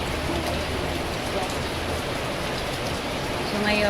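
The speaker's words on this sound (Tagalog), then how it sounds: "umuulan po sa amin. Umaga po umuulan." Steady hiss of morning rain falling on surfaces, dense and continuous, with a person speaking briefly over it near the end.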